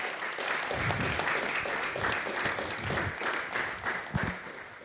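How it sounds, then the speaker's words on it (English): An audience at an evening panel event on faith leaders and good governance applauds steadily, a dense, continuous patter of many hands filling the room. "please ask you to join me with an applause"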